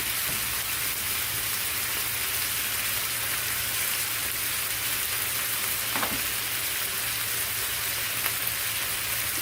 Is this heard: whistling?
no